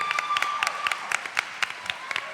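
Audience at a Hofstra forum on sustainability for the Nassau County Executive race, clapping as a steady crowd patter of many hands with distinct sharper claps, moderately loud and continuous throughout.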